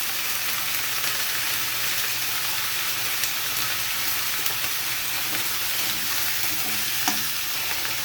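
Food fries with a steady, dense sizzle in a pan while a spatula stirs it, the scraping and occasional small clicks sitting close and constant throughout with no voices.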